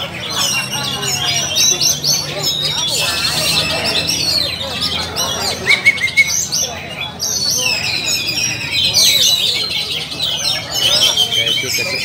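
Oriental magpie-robins (kacer) sing at a songbird contest: many overlapping bright chirps and trilling phrases from several birds, with announcer-style talk and crowd murmur running underneath.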